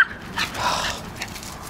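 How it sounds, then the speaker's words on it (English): A puppy and an adult dog play roughly, with brief yips, whimpers and soft growling noises close by, one short burst after another with no talking. "That puppy is doing to Ellie exactly what Ellie did to that puppy"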